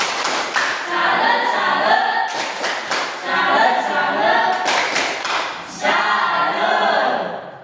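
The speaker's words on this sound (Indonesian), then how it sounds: "Tepuk salut." A school class performs the rhythmic tepuk salut clap, with three bursts of sharp, close, patterned claps and hand thumps in unison. Brief pauses separate the bursts and a faint shuffle of pupils sits underneath.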